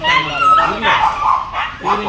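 Dogs at a dog-breeding kennel bark and yip close by in a quick, continuous run of excited calls, some whimpering tones mixed in.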